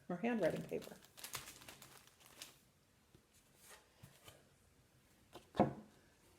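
Handwriting paper is pulled out and handled during a classroom letter lesson, with close crinkling and rustling bursts at the start, scattered softer shuffles, and a sharp crackle near the end.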